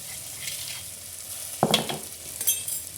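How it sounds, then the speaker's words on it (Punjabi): Cumin and garlic-ginger paste hit hot oil in a pan for baingan bharta, a steady sizzle that flares with a sharp burst midway, followed by a couple of stirring scrapes, no voices. "ਥੋੜਾ ਜਿਹਾ ਪਾ ਲਾਂਗੇ ਇਹਦੇ ਵਿੱਚ ਜੀਰਾ ਨਾਲ ਦੀ ਨਾਲ ਹੀ ਆਪਾਂ ਪਾ ਲਾਂਗੇ ਲਸਣ ਅਦਰਕ ਦਾ ਪੇਸਟ"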